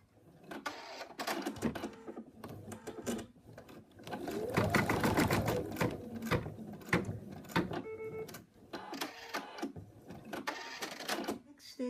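Embroidery machine stitching a cat design, a loud rapid mechanical chatter that speeds up and slows with short pauses, a voice talking over parts of it.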